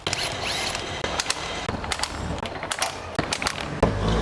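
A hand tool refits the drain plug on a Toyota Avanza oil pan, giving quick metallic ratcheting clicks and clacks in uneven bursts, close up and moderately loud over background noise.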